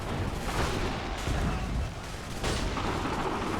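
Dense gunfire and artillery-like booms fill a chaotic battle in Assassin's Creed 3, loud continuous noise with overlapping blasts and voices shouting underneath.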